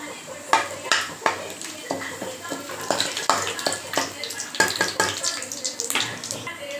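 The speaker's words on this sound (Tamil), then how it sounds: "பட்டை லவங்கம் ஏலக்காய் பிரிஞ்சி இலை போட்டிருக்கேன் இது நல்லா பொரியட்டும்" Cinnamon, cloves, cardamom and bay leaf frying in hot oil in a kadai for chicken gravy: a steady sizzle and spatter under sharp metallic clinks and scraping of a spoon against the pan, close by.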